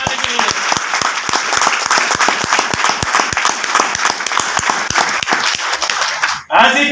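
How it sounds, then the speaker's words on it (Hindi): An audience at a direct-selling marketing meeting claps loudly and steadily, a dense run of sharp hand claps that holds for several seconds before cutting off abruptly, with talk faintly underneath. "गवर्नमेंट के लिए जोरदार ताली होना चाहिए"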